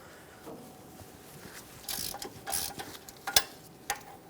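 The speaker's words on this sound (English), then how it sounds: "Now use a 17mm socket and remove the 2 bolts that hold the caliper bracket onto the knuckle." A 17mm socket on a ratchet works the brake caliper bracket bolts on a 2013-2018 Hyundai Santa Fe, giving a few quiet, scattered clicks and ratcheting bursts, with sharper ticks near the end.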